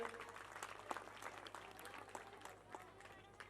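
Applause from an audience at a school annual function, a steady dense patter of many hands clapping at moderate distance, fairly faint, with low background murmur and a constant hum.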